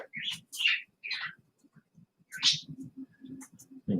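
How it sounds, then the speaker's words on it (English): Birds chirp and tweet nearby in short bright bursts, with a few soft low sounds between the calls. "so the birds, they're oblivious. They're just playing."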